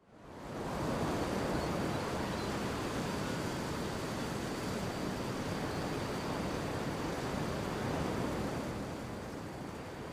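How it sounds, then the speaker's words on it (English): A beach ambience of steady broadband surf and wind fills the whole span, the waves washing continuously at moderate level; any birdsong is faint and lost beneath the roar. "It was just a beach, you could hear some birds chirping in the background"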